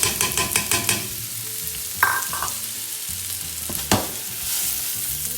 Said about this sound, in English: teaspoon of oil in, and I'm just gonna sweat my onions.